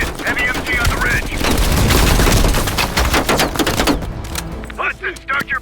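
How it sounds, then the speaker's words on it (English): Heavy machine gun fire in Call of Duty Black Ops Cold War, a loud dense rattling burst of rapid shots that cuts off, then voices speaking over the fading battle noise. "Heavy MG on the ridge."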